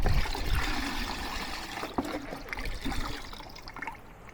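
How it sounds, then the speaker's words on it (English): Coolant and water poured together into a container to make a 50-50 mix, a soft steady trickle and splash of liquid that fades slightly toward the end. "Just dumping coolant and water together here to make 50-50 mixture."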